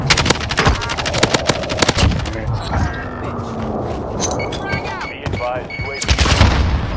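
Gunfire in the Cold War Warzone video game, with sharp, loud shots in rapid bursts and sporadic single cracks, plus mechanical clatter and a brief voice in between.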